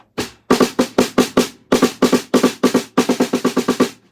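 A snare drum with a marching-style head is struck in quick, crisp strokes, bright and poppy, with short bursts and pauses between groups of hits.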